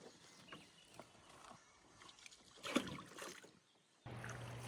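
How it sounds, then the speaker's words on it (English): A canoe paddles across a lake on a remote BWCA trip near Knife Lake, with faint, soft dips and splashes of the paddle and light knocks on the hull, quiet and close in calm evening conditions. "Paddling back to camp that night"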